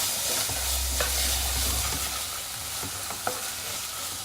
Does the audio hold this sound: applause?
no